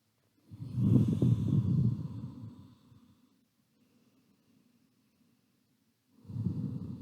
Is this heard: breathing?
yes